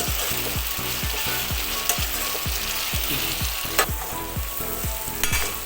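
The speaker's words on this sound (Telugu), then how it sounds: "ఇప్పుడు అల్లం పేస్ట్ వేసుకున్నాం. 1 స్పూన్ అల్లం పేస్ట్." Ginger paste for korramenu fish curry fries in oil with a strong steady sizzle, while a spoon scrapes the pan in a quick regular rhythm of about two strokes per second, close and loud with no speech.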